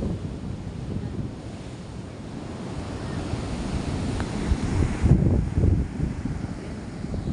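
Large waves and surf driven by Super Typhoon Owan crash against a flooded shore, making a loud, continuous roar with buffeting wind noise on the microphone and a heavier surge toward the end.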